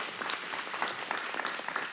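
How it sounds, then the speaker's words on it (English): Audience applause for the lunch staff at a conference, steady dense clapping from a crowd lasting throughout, moderately loud with no talking over it. "Can we just give the team an applause for that amazing lunch?"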